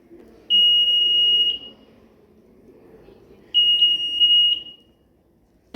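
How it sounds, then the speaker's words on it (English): A shrill electronic smoke alarm buzzer of a smart fire alarm system, triggered by smoke, sounds in two loud, steady blasts about a second long, separated by a pause, over a low background hum. "when temperature is high and there is smoke in the room, the buzzer will turn on"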